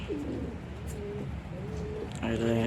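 Pigeons in a loft coo several times in soft, repeated calls at close range, with a faint voice in the background.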